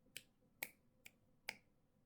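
Four crisp finger snaps, close and isolated, spaced unevenly across a couple of seconds in a quiet room.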